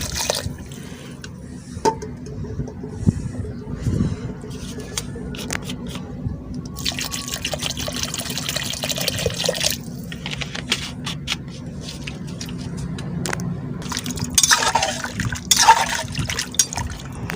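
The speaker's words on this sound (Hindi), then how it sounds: "बस अब पानी पूरा हो गया है।" Water is poured into a pot of mutton and potato curry in a home kitchen, with splashing and trickling bursts scattered among clinks and handling noises, the pouring strongest near the end.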